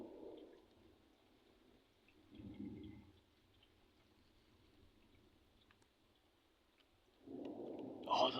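A night thunderstorm passing directly over Tremonton, Utah around 2:30 AM brings low rumbles of thunder that swell and fade, with a steady hiss of rain and a louder roll near the end.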